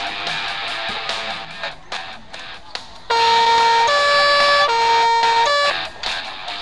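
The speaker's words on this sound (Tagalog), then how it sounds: "This is a fire truck." A fire truck siren in a police patrol simulator video game blares loudly, alternating between two pitches, after a series of short electronic beeps and horn-like blasts.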